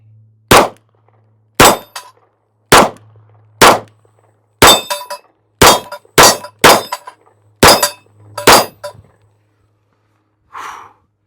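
About ten sharp pistol shots from an H&K P30L ring off a steel hostage target at an outdoor range, spaced roughly a second apart, each crack followed by a brief metallic ping, with a short faint sound after the last shot.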